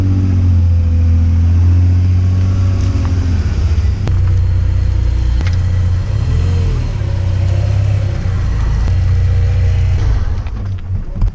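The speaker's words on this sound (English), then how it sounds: "So Vinny was parking my car and he already scraped the lip" VW MK3 Golf VR6 driving slowly and parking, its engine a loud, steady close rumble with brief rises in revs and a small drop in level at the end as it settles.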